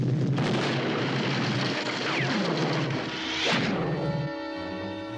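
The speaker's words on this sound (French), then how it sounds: "Ça va bientôt exploser!" A loud, sustained cartoon explosion from a Smurfs episode roars in a broad, rumbling wash for several seconds, then thins into a ringing, tonal tail.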